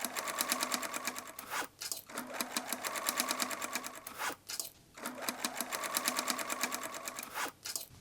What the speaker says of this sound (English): Sew wedges to denim base and check symmetry.